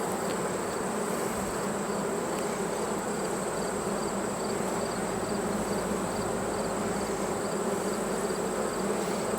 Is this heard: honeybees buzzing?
yes